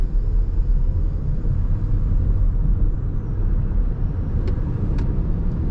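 2021 Toyota Mirai hydrogen fuel-cell car accelerating on throttle, a steady, loud low rumble and road noise from inside the cabin with faint high ticks near the end.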